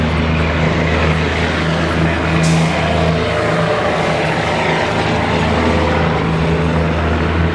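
A 1963 Corvette Stingray's original, overhauled V8, bored out with high compression, runs at a steady idle close by, a dense continuous rumble with a strong low throb and no voices.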